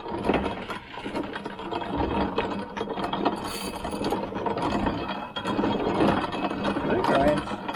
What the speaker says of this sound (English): We're grinding corn.